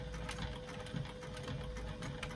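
A sewing machine runs steadily, stitching back and forth over a thick leather-style bag flap where the thumb lock hardware will sit, a dense continuous mechanical whir with a quick repeating needle rhythm and no talk.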